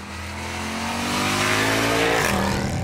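A 6.2-litre V8 in a Mercedes-Benz C63 AMG estate revs up loudly and steadily, its pitch climbing before a quick shift drops it, heard close with no speech.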